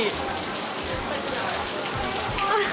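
Rain falls on a university campus during a psychology faculty freshman welcome event, a soft continuous patter of drops heard up close under people talking.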